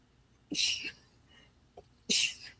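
Two sharp sneezes, the first a bit over half a second in and the second near the end, each a loud breathy burst, with a faint throat sound between.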